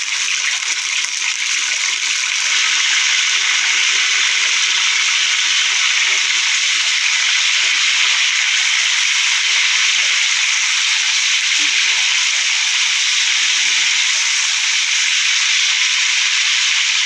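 Paneer sizzles in hot oil in a kadai, a steady loud frying hiss that runs unbroken and close for the whole stretch with no talk over it.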